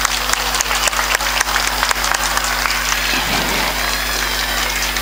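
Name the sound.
audience applause at a school parents day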